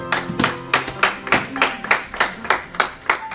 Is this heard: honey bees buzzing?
no